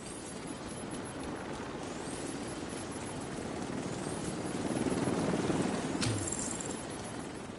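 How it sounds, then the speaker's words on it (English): In the video game The Division 2, a helicopter arrives at an extraction zone, a steady, dense rotor roar that swells midway and then holds, with no talk. "Helo almost at extraction zone."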